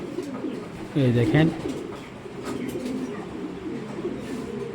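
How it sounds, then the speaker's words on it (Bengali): Racing pigeons from a breeder's loft, including a 2015 hen, give a short, loud burst of cooing near the start, then softer murmuring as someone speaks briefly nearby. "এইগুলা বিআরপিও ক্লাবের ফার্স্টের কবুতরগুলা, 2015 কবুতর এটা।"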